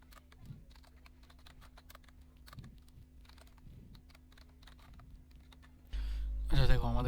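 Computer keyboard typing HTML code, a run of soft, irregular key clicks spaced through the passage, faint and close, before a louder burst of other noise near the end.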